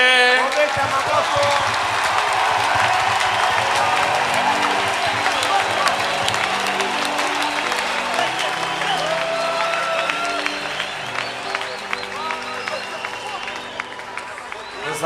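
Church congregation applauding after a sermon: dense, loud, sustained clapping mixed with cheering and crowd babble, tapering slightly toward the end.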